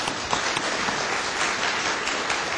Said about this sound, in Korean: 예, 박수 칩시다.